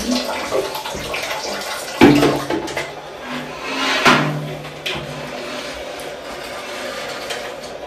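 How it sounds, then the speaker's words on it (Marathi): An oily utensil is scrubbed and rinsed under running water with a knife, giving splashing, scraping clatters and bumps against a sink, close, with no voices. "सुरीने ना सगळं असं काढून घेते आणि मग घासणार"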